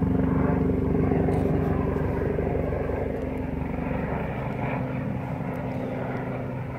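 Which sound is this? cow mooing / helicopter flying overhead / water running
helicopter flying overhead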